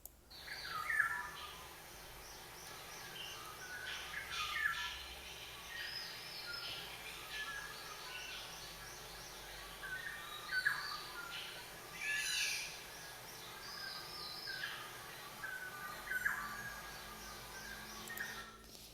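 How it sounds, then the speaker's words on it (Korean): Clear, melodious oriole song in repeated short phrases with pauses between them, fairly distant over a quiet background. "그럼 꾀꼬리는 어떻게 소리가 나는지 한번 다 같이 들어보도록 하겠습니다"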